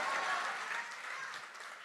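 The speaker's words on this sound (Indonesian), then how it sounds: "Tepuk tangannya jangan pelan-pelan." A church congregation applauding during a worship service, dense continuous clapping from many hands at moderate distance, holding steady for the whole stretch without pauses.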